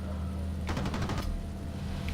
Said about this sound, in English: you just kind of get your cannons ready.